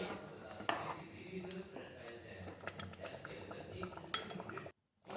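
A spoon stirs a spinach chicken biryani mixture in a pot, making close clinks and scraping taps against the metal with soft wet shuffling, under quiet background talk.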